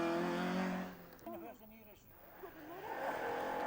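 A Ford Escort Mark II rally car passes on a stage of the Tour of Mull, its engine loud at first and then fading, while a commentator talks over it.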